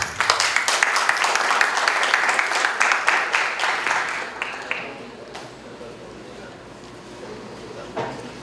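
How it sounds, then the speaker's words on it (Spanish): Applause from an academic congress audience welcoming two speakers, strong at first and then fading out after about five seconds into a quiet room with faint stray noises. "Quisiera a ambos recibirlos con un fuerte aplauso."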